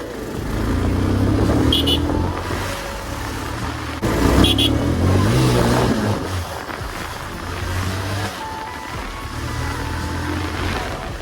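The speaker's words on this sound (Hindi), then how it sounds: "यहाँ पे बनूरी में काफ़ी ज़्यादा ट्रैफिक लगा है" Dense road traffic in Banur rumbles continuously nearby, engines idling and revving, with a couple of short horn toots.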